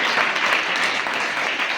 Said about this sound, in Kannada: ಅವರಿಗೆ ನೀವೆಲ್ಲರೂ ಜೋರಾಗಿ ಒಂದು ಸರ್ತಿ ಚಪ್ಪಾಳೆಯನ್ನು ತಟ್ಟಿ